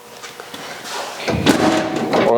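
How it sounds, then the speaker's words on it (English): A steel quarter panel on a 1956 Chrysler Windsor oil-cans, flopping in and out with a couple of hollow metallic thumps and pops amid shop clatter and faint background talk. "Oil can is that sound you're hearing, where it's kind of flopping in and out."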